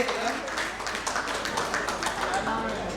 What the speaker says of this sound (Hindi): एक बार जोरदार तालियों से भाई हिमांशु जी को विदाई दे